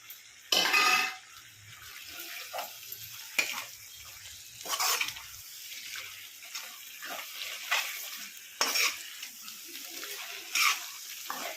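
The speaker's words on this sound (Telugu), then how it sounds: "ఇప్పుడు మనం ఉడికించిన గోంగూర ఉంది కదా ఇది వేసేసుకున్నాం" Boiled gongura leaves frying with prawns in a pan, giving a steady sizzle with repeated scrapes and stirring clatter, fairly close and moderate in level, with no talk.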